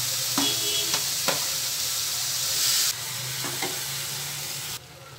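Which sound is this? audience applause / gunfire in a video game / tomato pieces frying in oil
tomato pieces frying in oil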